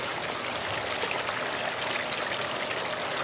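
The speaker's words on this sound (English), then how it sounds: "You can see that water flowing over." Water pours steadily over a four-tier stone California birdbath fountain, a continuous close splashing trickle with no pauses and no voices.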